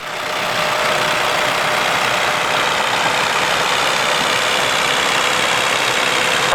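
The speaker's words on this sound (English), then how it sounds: "Followed by another Alice Chalmers B, but this one's been converted with a Perkins engine" An Allis-Chalmers B tractor refitted with a Perkins diesel engine idles steadily at a steam rally, giving a continuous close, loud chugging rumble with a knocking edge and no voices over it.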